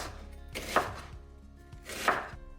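A knife slices through onion on a cutting board, two separate bursts of close chopping with a quiet pause between them, no voices.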